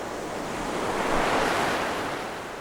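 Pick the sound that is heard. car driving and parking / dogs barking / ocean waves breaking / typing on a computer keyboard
ocean waves breaking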